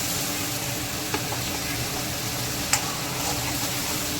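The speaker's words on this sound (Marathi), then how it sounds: "कांद्याचा पेस्ट घातला लसण जिरा अद्रकचा पेस्ट घातलेला आहे त्याला मस्त असं परतून घेतलेलं आहे" Onion paste with garlic, cumin and ginger paste sautés in a pan, a soft, even sizzle with a couple of faint clicks of stirring, close and steady, no voices.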